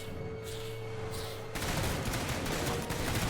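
Dense shotgun and gunfire bursting in the Starship Troopers: Terran Command strategy game, a sudden loud wall of blasts that takes over after a quieter stretch of background hum and keeps rattling steadily to the end.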